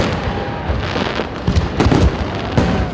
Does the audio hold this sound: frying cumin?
no